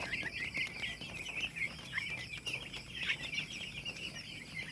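Rhode Island chickens on a Pangasinan poultry farm cluck and chatter as a flock, many overlapping calls at close to middle distance, fairly faint but continuous, with no talking.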